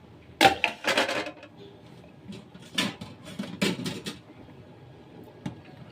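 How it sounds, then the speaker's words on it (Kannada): A metal lid lifted off a cooking pot of white khushka rice, a few sharp clanks and scrapes close by, followed by quieter clinks and rustling in a fairly quiet kitchen. "ಇವಾಗ ಮುಚ್ಚಳ ತೆಗಿಯೋಣ."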